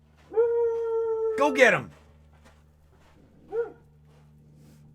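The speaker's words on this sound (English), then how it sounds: "You know who she's barking at?" A dog guarding a home in a gulch gives one drawn-out, howling bark. A voice shouts over it, and a second, shorter yelp comes a moment later.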